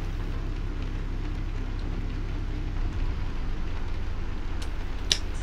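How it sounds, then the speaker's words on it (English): Rain in the American Truck Simulator game, a steady hiss of falling drops over a low engine rumble, continuous and fairly loud, with a brief sharper tick near the end. "and it's raining, so there's that, yay."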